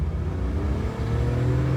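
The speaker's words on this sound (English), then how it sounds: "So we will drive full throttle right now" A Chevrolet Damas microvan accelerates at full throttle, its small engine giving a steady, loud, close droning rumble with a rising low hum and no pauses.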